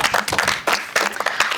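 An audience claps for a family's score in a family competition show, a brief burst of lively, uneven applause from a group of people.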